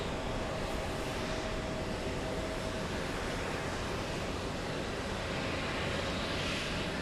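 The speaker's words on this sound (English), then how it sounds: "We have Cathay Pacific landing right now on 22 right" A Cathay Pacific airliner lands on runway 22 right, heard as a steady, broad jet roar at a distance, unbroken for the whole stretch, with no talk over it.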